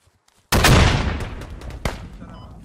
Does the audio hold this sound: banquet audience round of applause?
no